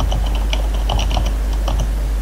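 Steady, rapid clicking of keys as a terminal command is typed on a computer keyboard, close and continuous for a couple of seconds over a low hum.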